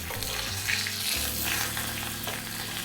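Tadka tempering poured over a tricolour dhokla, giving a continuous close sizzle and crackle at steady loudness for the whole moment, with no voice over it.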